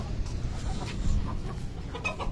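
Desi aseel chickens on a free-range farm cluck in soft, scattered calls close by over a dense, low background rumble.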